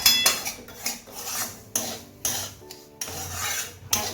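Semolina upma stirred in a pan, a series of rhythmic metal scrapes and taps of a spatula against the pan, close and repeated about every half second.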